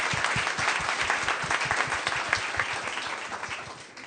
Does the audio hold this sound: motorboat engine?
no